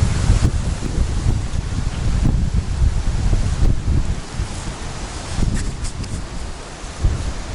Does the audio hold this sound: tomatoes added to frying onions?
no